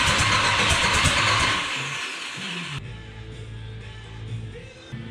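Mercruiser Turbo 3.0 boat engine firing up, a loud rough roar that settles within seconds into a steady low idle hum, close by and alone.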